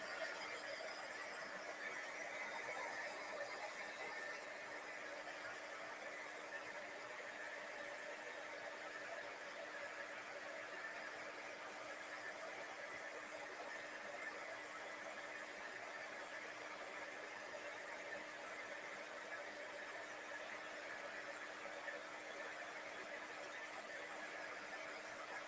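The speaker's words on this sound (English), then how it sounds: "I didn't heat my tool up fast enough." A heat embossing tool blows steadily to melt embossing powder, giving a continuous close whirring hiss with a thin high whine that holds unchanged throughout, with no talking.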